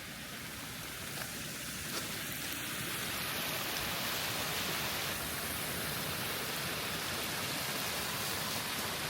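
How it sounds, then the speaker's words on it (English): A private backyard waterfall water feature at a Bellingham home pours in a steady, hissing rush, an even wash of falling water that swells slightly louder partway through. "there's just something extremely peaceful about a water feature"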